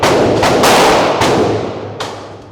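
Rapid semi-automatic fire from an M&P 2.0 9mm pistol fitted with an FRT trigger at a shooting range, a loud burst of close sharp cracks blurring together, with a few separate louder shots standing out.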